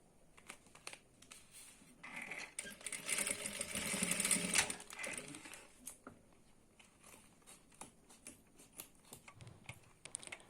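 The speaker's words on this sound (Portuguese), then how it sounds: "nós vamos passar uma costurinha para prender tudo" A sewing machine stitches bias binding onto the sides of a plastic hygiene kit case, running in a fast, steady mechanical whir that builds louder midway and then slows into lighter intermittent clicks, close up with no talk.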